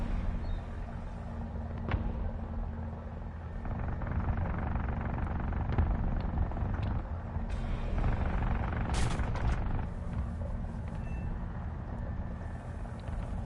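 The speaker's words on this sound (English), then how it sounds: "now let's get the chopper back on target" A helicopter in War Thunder drones steadily throughout while gunfire and bursts crackle over it, a dense continuous din of rotor noise and shooting with sharper bangs scattered across the middle.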